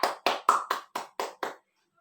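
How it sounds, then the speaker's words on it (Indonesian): Seven distinct claps in an even rhythm from children in an elementary school classroom, crisp and close, followed by a brief silence. "Beri tepuk tangan buat semuanya ya."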